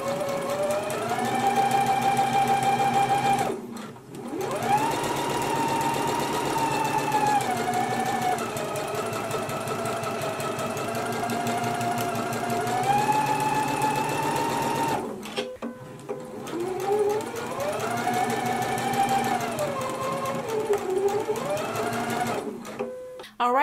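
A sewing machine runs ease stitching along the curved pockets of an unlined Simplicity 8955 jacket, humming loudly in long continuous runs that shift pitch, broken by two brief pauses.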